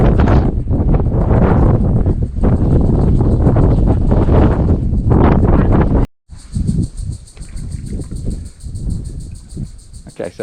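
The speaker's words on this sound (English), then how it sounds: "Pretty windy too." Strong wind buffets the microphone high on a rocky outcrop in the Porongurups near Albany. A loud, continuous gusting roar with a deep rumble briefly cuts out, then returns in uneven bursts.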